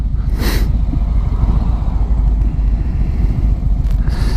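A Harley-Davidson motorcycle engine runs with its temperature management system enabled, dropping to one cylinder when warm, giving a steady, loud, low rumble close by for several seconds, with a brief hiss near the start and no talking.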